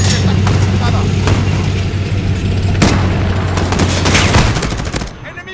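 Call of Duty Modern Warfare 2019 campaign combat at a hospital entrance: rapid bursts of gunfire and booming explosions over a low drone, loud and continuous, with shouted voices mixed in.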